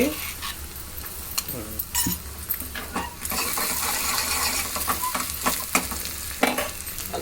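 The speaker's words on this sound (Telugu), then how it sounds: "కొంచెం ఆయిల్ ఆవాలు జీలకర్ర మెంతులు ఎండుమిర్చి అలాగే ఏదైతే మనం దంచుకున్నాం అది కూడా ఇవి కూడా పచ్చివే కదా వేసుకున్నాం అందుకే కొంచెం వేగాలి" Mustard seeds, cumin, fenugreek and dried red chillies tempering in hot oil for a tomato pepper rasam, giving a steady close sizzle and crackle with scraping stirs and occasional sharp pops.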